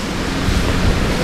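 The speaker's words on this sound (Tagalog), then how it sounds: "Ang lakas ng hangin." Strong wind blows steadily across an outdoor spot in the Philippine countryside, a loud continuous rushing roar with buffeting against the microphone and no voices.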